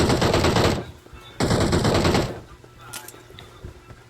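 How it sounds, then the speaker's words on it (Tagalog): Automatic gunfire in a video game rattles in two long, loud bursts close by, followed by quieter scattered shots and game noise. "Binabaral ako, Vlad!"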